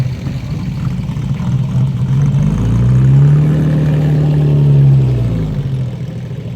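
A classic car's engine runs at a car show, idling with a low rumble and then rising into a smooth, sustained rev that swells and settles, loud and close, with no talk.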